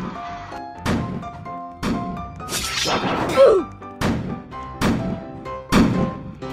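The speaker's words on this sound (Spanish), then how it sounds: "disparemos con todas a la estatua" Cannonballs from a Roblox cannon slam into a statue, about seven heavy separate thuds and crashing impacts spaced roughly a second apart, loud and punchy, with debris-like rattles trailing some hits.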